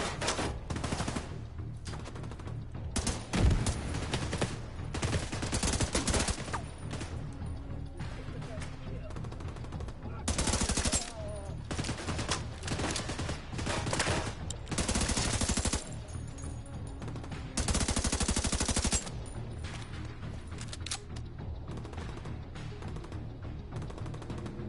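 Rapid bursts of automatic gunfire from an unmodified, hard-recoiling weapon in the video game The Division 2 repeat across the whole stretch, loud and dense, with a short sharp blast near the start and speech mixed in.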